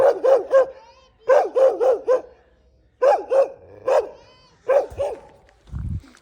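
A dog on a mountain trip barks in quick bursts of three or four sharp barks separated by short pauses, close and loud, with a low rumble near the end.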